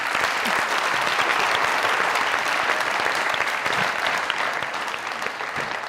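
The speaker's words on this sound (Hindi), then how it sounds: "जोरदार ताली।" A studio audience at the Mazaq Raat comedy talk show claps loudly and continuously, a dense, even wash of applause that eases off slightly toward the end.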